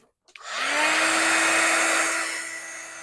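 A handheld craft heat tool clicks on and blows a steady, close, loud whooshing hum while melting embossing glaze, then tapers slightly near the end.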